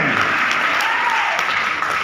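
Applause from an audience at a business product training event, a steady dense wash of many hands clapping throughout, loud and continuous with no voices standing out.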